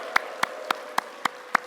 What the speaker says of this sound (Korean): 성령 하느님께 뜨거운 감사와 찬양의 박수를 보냅시다